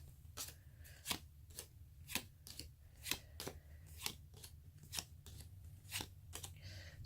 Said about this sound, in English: So I'm putting her question into the cards now, and I'm going to lay these out